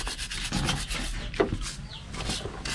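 Fresh mud crabs are scrubbed with a brush before cooking, a close, continuous rasping scrub with a steady back-and-forth rhythm.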